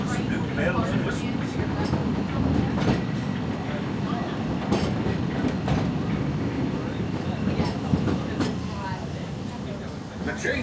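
An old gold mine railroad ride at Disneyland gives off a continuous rattle and low rumble, with clicking wheel noise and scattered sharp clanks over a steady background, fairly loud and unbroken.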